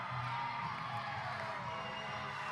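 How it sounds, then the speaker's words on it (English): Crowd of fans cheering as Utah's new NHL team arrives in Salt Lake City, a steady distant roar of excited voices and shouting children, unbroken throughout. "Crowds are erupting. The fans are already going crazy."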